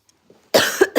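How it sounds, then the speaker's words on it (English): A single person gives a sharp, close cough after a near-silent start, breaking into two or three quick harsh bursts. "Sorry about the cough."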